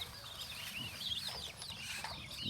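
Young ducklings being raised on a farm chirp and peep continuously in high, thin calls, a busy cluster of birds heard close up.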